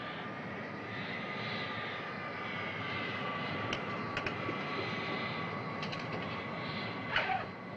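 A 1960s airliner takes off, its engines a steady, broad roar held at a constant level with faint clicks on top and no voices.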